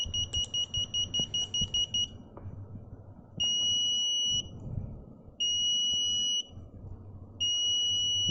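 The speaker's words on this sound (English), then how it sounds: "Now this sounds like maybe another type of alarm or something." An active buzzer beeps in a shrill electronic tone, first in a quick run of short pulses, then in three longer one-second beeps separated by pauses, faint background noise between them.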